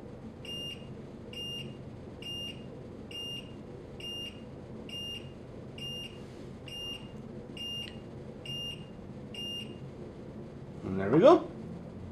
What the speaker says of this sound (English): we've added a high and a low alert using the onboard piezo buzzer